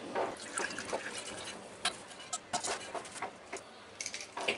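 Strained mint leaf and ginger juice pours into a glass, giving irregular close splashes and drips with brief trickling bursts and short pauses between.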